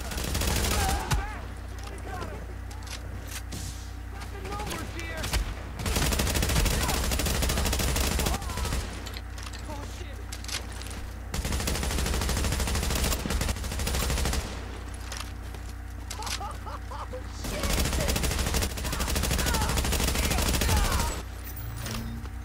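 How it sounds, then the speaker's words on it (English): Auto rifle fire in The Division's Dark Zone comes in long sustained bursts of rapid gunfire, loud and close, broken by short pauses, with game effects layered underneath. "using this auto rifle, it's really good"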